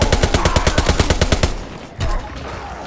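Wimmersperg SPZ AR rifle in a WWII video game fires a rapid automatic burst of about fifteen sharp, loud shots, then stops, leaving a short thud and quiet tail.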